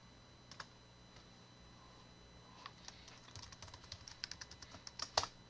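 Password being typed on a computer keyboard: a quiet run of light, irregular key taps that grows denser and a little louder toward the end, with no talk over it.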